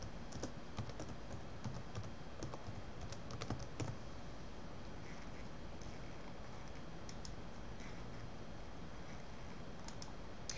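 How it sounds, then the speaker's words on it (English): Rapid, uneven keystrokes on a computer keyboard while entering a comment in purchase order accounting software, close and fairly quiet, with clustered bursts of clicks and short pauses and no talking. "I then can go over to my comment and type in whatever comment information that I want"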